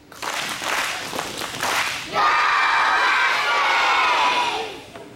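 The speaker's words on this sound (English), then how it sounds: "Now, one big huge husky cheer for the school." School children at a morning assembly burst into a loud, sustained cheer, shouting and whooping together after a few seconds of mixed crowd noise and clapping, then trailing off.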